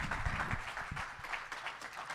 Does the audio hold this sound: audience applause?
yes